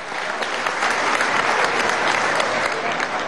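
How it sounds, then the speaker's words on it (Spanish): A crowd at an anti-imperialism world meeting in a Caracas hotel hall gives a dense, steady round of applause, loud and sustained throughout with no break. "una salva de palmas por la unidad"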